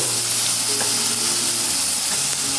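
Garlic and curry leaves sizzle loudly and steadily in hot oil while sautéing for a vanjaram fish curry, a dense, continuous close hiss with no pauses or voices.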